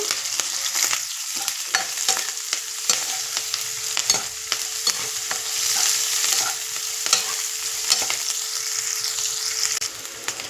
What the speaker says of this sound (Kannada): ನೋಡಿ ಈರುಳ್ಳಿ ಚೆನ್ನಾಗಿ ಫ್ರೈ ಆಗಿದೆ